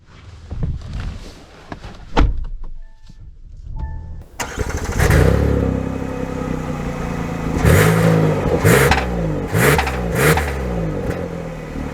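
2023 Kia Telluride SX-Prestige X-Pro starting up: a few clicks and door or button sounds, two short chimes, then the engine cranks and catches with a loud burst, settling into idle punctuated by several revs.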